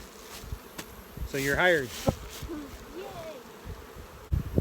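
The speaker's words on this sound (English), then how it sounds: "Bees are actively foraging today." Bees buzz around, with a brief voice speaking partway through; the buzzing rises and falls as insects pass close.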